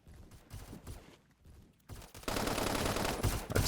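Hip-fired PDW gunfire in the Roblox game Phantom Forces: sparse shots at first, then a sustained rapid automatic burst, loud and continuous to the end.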